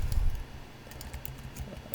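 Keys clatter on a computer keyboard during a Drupal Commerce Kickstart install, a quick burst of close taps at the start and then sparser light clicks over a low room hum.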